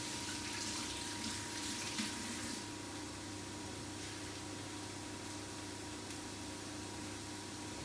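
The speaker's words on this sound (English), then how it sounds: "I'm just quickly going to wash my hands as well" Hands are washed under a running kitchen tap, a steady close rush of water that holds even throughout, a little fuller in the first few seconds, with no voices.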